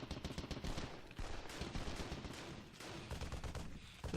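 German soldiers fire in a World War I video game: dense, continuous rifle and machine-gun fire rattles throughout, loud and sustained with no pauses, and no voices over it.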